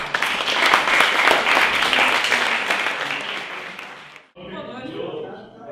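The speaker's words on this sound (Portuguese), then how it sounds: "Então, salva de palmas pra galera." Audience applause at a design debate, a dense burst of clapping that fades over about four seconds before cutting to a quieter room with voices talking.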